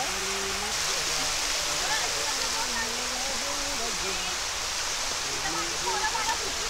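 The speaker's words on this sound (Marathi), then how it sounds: "हे बघा हा एक धबधबा लागतो आपल्याला." Near the Khopoli railway bridge, a waterfall roars as a dense, constant rush of falling water, while a person talks over the steady wash.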